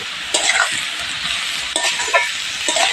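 Red amaranth greens with green chillies and salt sizzle and fry in a hot pan, stirred in short scraping bursts at a steady close, loud level over a constant frying hiss, with no voices.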